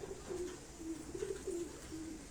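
Pigeons kept by a shop-owning pigeon fancier coo softly in a short repeated series of low, throaty phrases, fairly faint against a steady background.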